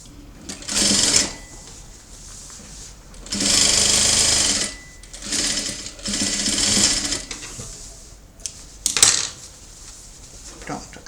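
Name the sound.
sewing machine topstitching a rag doll skirt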